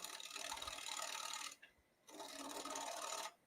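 A woodturning tool scrapes against a spinning bowl tenon on a lathe at about 1,200 RPM, giving two close, steady rasping passes separated by a short pause.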